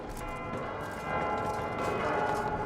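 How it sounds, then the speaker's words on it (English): Loud church bells ring in The Outer Worlds 2 video game, near the observatory, a dense sustained clanging that swells louder toward the end over ambient game sound. "those bells are loud"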